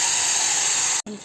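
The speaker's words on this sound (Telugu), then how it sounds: "చింతపండు పులుసు పోస్తాం" Tamarind juice poured into hot oil and rice for tamarind pulihora, a steady loud hiss and sizzle with steam, cutting out briefly before a softer sizzle resumes.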